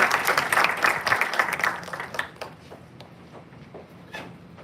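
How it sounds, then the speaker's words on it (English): An audience applauds loudly with dense clapping at a Navratri Day 9 event as a guest is called up, then the applause fades and thins over several seconds. "Let us call her up with a huge round of applause."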